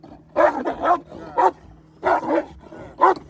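A Chinese Red dog barks during defence training, a series of loud, close, sharp barks in uneven pairs and singles with brief pauses between.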